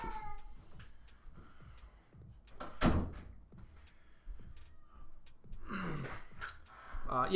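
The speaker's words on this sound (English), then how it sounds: "I got to shut this door." A room door is shut with a single loud thump partway through, set among loud cat meows and household noise.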